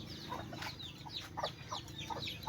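Hen clucking softly beside her newly hatched chicks in a backyard flock, with repeated short clucks and faint high peeps scattered over a steady low rumble, fairly close and without talk.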